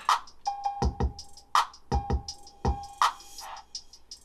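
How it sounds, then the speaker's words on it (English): A short crowd sample woven into a hip-hop beat with open and reversed hi-hats and kicks, heard as brief bursts of murmur between punchy low thumps and crisp hats, with no voices talking over it. "There's also like a little crowd."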